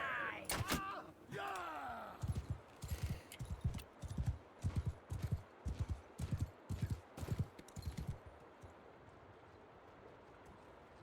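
Horse hoofbeats in the video game MBB2, a run of about a dozen evenly spaced thuds at a steady trot, close and distinct, preceded by a few sharper clacks and a brief swish.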